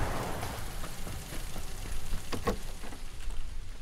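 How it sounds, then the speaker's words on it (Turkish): Rain patters on a car roof in PUBG (PlayerUnknown's Battlegrounds), a steady hissing drizzle with scattered closer droplet taps and no talking. "Arabanın üstüne yağan yağmur çok güzel değil mi?"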